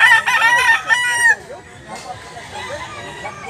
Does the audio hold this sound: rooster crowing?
yes